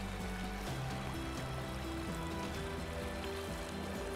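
Fast-flowing river water rushes steadily below a waterfall on a trout river in Australia, a dense, continuous roar close by with no gaps and no voices.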